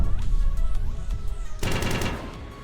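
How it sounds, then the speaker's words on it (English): Particle cannon firing at ships in the space game Evolving Empires, a dense rapid burst of repeated blasts that grows heavier partway through, loud and close. "A little bit there as well with that particle cannon."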